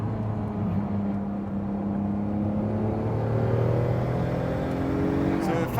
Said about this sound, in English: I like to rev it out. This is a very linear map, so it's fun to rev it because it pulls all the way to the top.